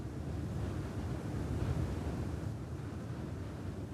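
Steady wind roars across the black volcanic rock coast at Callao, Cape Verde, a dense continuous rush that may carry distant surf, loud and unbroken throughout.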